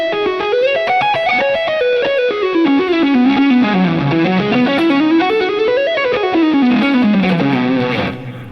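A distorted electric guitar through two Memory Man delays set at 350 and 500 on a Line 6 Helix plays sweeping runs up and down, each note smeared into a dense wash of overlapping echoes before cutting off at the end.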